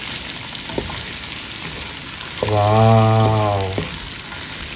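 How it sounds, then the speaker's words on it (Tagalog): Carrots are stirred into a sizzling pan for sotanghon guisado, with a steady, moderate frying hiss throughout; partway through, a voice lets out a drawn-out exclamation over the sizzle. "Ilalagay ko na ang carrots. At haluin."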